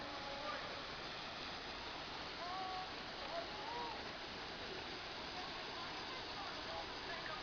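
A waterfall on a bike outing pours as a steady, broad roar of rushing water that fills the whole stretch, with faint bird chirps drifting above it.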